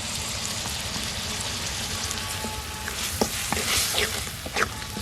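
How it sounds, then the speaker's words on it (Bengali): Onion and garlic paste with cumin, coriander, turmeric and chilli powder fries in a pan, a dense, bubbling sizzle with wet stirring scrapes that grow busier toward the end. "এবার মশলাটা ভালো করে কষিয়ে নেব।"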